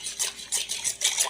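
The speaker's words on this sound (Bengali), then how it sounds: "এখন আমি ভালো করে মিক্স করে নেব।" Spoon stirring a mixture of jaggery, milk and one cup of oil in a bowl for an eggless date-jaggery cake, a steady run of soft scraping strokes close by, with no talk.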